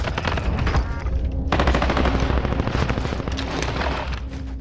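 Sustained automatic gunfire in Call of Duty: Rebirth, loud and close, with rapid bursts and a few heavier booms rolling continuously over the game ambience.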